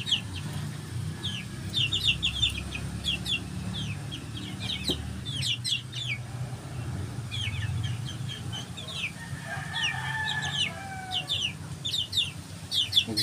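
Green-legged chickens clucking nearby, repeated short clucks and chatter from several birds over a low background rumble.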